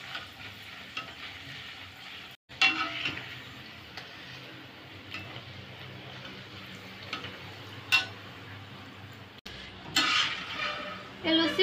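Luchi puffing up while deep-frying in hot oil, a steady close sizzle and bubbling with occasional stirring clicks and utensil taps, continuing without any talk throughout.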